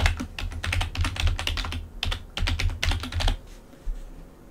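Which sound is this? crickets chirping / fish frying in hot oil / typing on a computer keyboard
typing on a computer keyboard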